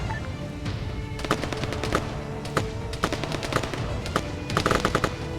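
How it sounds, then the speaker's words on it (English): Bursts of automatic machine gun fire in an Arma 3 battle, rapid rattling volleys repeating across the span, some shots sharp and close, others softer and farther off, with no talking. "McHenry, engage that machine gun! Front! Machine gun! 100 meters!"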